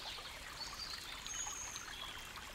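A gentle river flowing past flowered banks beside a walking path makes a steady, soft, hissing rush of running water, faint and continuous with no voices.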